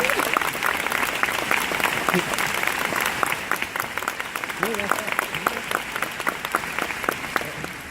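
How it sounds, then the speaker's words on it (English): A rally crowd at a Civic Center applauds Bernie Sanders in a long, steady wash of clapping that stays loud and continuous, with a few shouts and voices rising from within the audience. "He's clapping harder, though."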